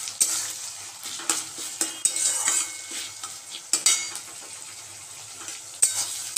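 Black cumin, dry chili and a bay leaf tempering in hot oil, a soft sizzle broken by sharp metallic scrapes and clinks of a spatula against the pan at irregular intervals, close and without talk.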